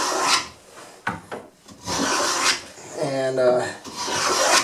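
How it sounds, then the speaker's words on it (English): A wooden molding plane cuts a cove into a wooden picture frame piece in rhythmic rasping strokes, each stroke a dry scraping rush, close up, with brief speech at the start. "And we'll just keep planing away here."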